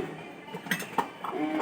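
A metal pot is set down tilted in a home kitchen, giving a few brief clanks and clinks close by amid quiet handling noise.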